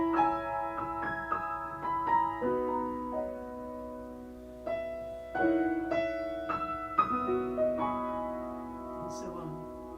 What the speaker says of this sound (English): So in the right hand, I have the Cambodian song, and in the left hand, I have the peace motif.